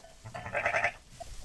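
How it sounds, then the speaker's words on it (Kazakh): A single sheep bleats once, close and fairly clear, a short wavering cry rising out of a quiet background and fading away with a faint trailing call. "Қой."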